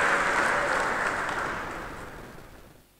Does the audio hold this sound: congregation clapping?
yes